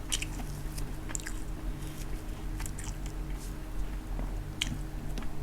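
Someone eating Thai hor mok, a steamed fish curry, with wet chewing and biting close up over a steady low background hum, no talking.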